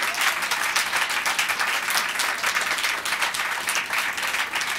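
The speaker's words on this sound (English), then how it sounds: "Give him another round of applause." An audience gives a loud, sustained round of applause, thick overlapping hand claps pulsing steadily and close for the whole stretch with no voices on top.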